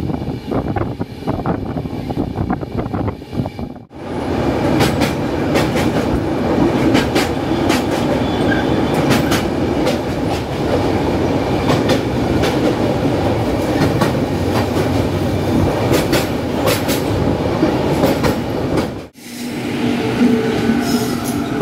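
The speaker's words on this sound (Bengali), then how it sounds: "বর্ধমান থেকে কলকাতার মধ্যে আমাদের ট্রেন কভার করবে 99 কিলোমিটারের নন স্টপ যাত্রাপথ" The 13182 Guwahati–Kolkata Kaziranga Express runs on rails between Bardhaman and Kolkata. It makes a loud, continuous rumble with rhythmic clickety-clack of the wheels, broken by two brief dips. There is no voice.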